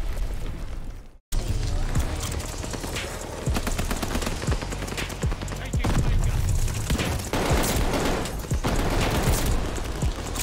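Sustained NZ-41 rifle fire in Call of Duty: Vanguard, rapid close shots running almost without pause, heavy and loud, with mechanical clatter and booms mixed in.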